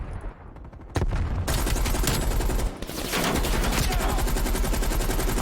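RPD machine gun firing in Call of Duty Black Ops Cold War, long dense bursts of rapid automatic fire, loud and close, with a short break between strings of shots.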